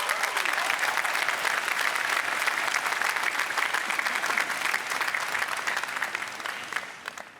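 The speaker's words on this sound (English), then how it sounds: "Let's give them a round of applause." Sustained applause from a large graduation audience at a UVA commencement ceremony, dense and steady throughout, easing slightly near the end.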